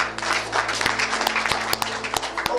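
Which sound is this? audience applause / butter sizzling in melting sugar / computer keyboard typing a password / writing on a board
audience applause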